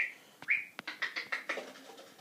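Pet parrots give a run of short squawks and chirping calls, about eight bright bursts in quick irregular succession, close by and fairly loud, with no talking.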